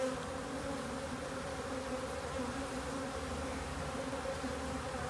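Honeybees hum in a steady, dense drone around an opened hive during an inspection merging two colonies, loud and close with no break.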